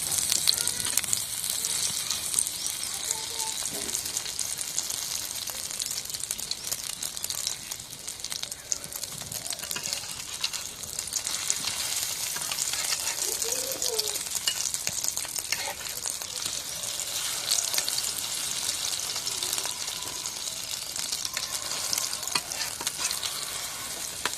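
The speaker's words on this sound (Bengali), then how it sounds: "এখন ডিম দিয়ে ভাজা হয়েছে" Pumpkin flower fritters fry with egg in a pan, giving a continuous, moderately loud sizzle with soft crackles and occasional stirring scrapes throughout.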